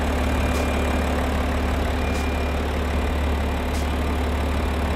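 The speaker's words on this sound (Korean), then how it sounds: "엔진 소리 일정합니다" A BMW X6 xDrive30d diesel engine idles continuously with a low, steady rumble and even rhythm, loud and close, no voices.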